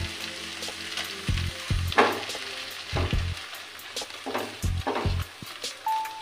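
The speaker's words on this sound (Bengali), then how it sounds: "আমি এটা এখন সমানে নাড়বো।" Poppy seed, fennel and cashew paste fries in oil in a pan, stirred with repeated thuds and scrapes over a soft sizzle, the strokes arriving in an uneven rhythm.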